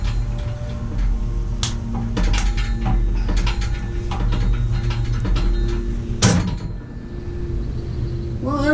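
A ratchet clicks in rapid bursts while tightening a strut screw under heavy force on a 1997 Volvo 850, repeated clicking over a steady low mechanical hum, close and fairly loud, with one sharper clack near the end.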